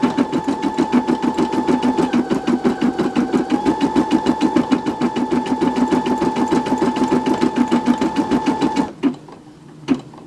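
A small embroidery machine stitches an in-the-hoop Christmas ornament with a fast, loud, steady mechanical rattle and hum, then stops abruptly near the end, leaving a brief quiet clunk; no talking.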